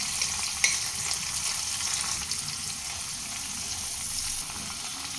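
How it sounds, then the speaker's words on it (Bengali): A tempering of spices sizzles in hot oil with tomato paste and ground cumin paste, cooking for mustard pomfret. The frying is steady and close, with a brief stirring clink near the start. "কয়েক সেকেন্ড ফোড়নটাকে একটু ভাজা হতে দেব"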